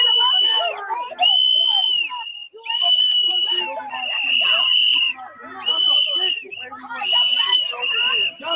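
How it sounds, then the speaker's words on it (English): Shrill whistles blown by a crowd at a street protest shriek in repeated loud bursts, overlapping one another with short gaps between, while people shout beneath them. "What the hell them whistles gonna do?"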